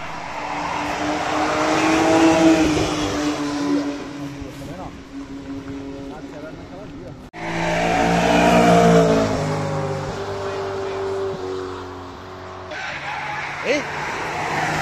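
Cars run at speed on the Nürburgring, engines roaring loud and near as they pass, rising and fading with a tire squeal, while people talk excitedly in Portuguese over the noise.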